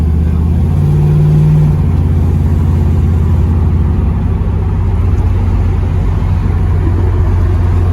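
A car engine runs steadily while driving, with gears being shifted manually because the transmission will not shift on its own; a loud, continuous low rumble with a brief pitch change near the start.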